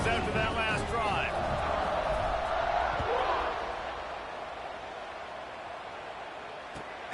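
Football stadium crowd roaring after a touchdown drive, a broad wash of cheering that stays loud for about three seconds and then fades to a lower murmur, with a commentator talking over it.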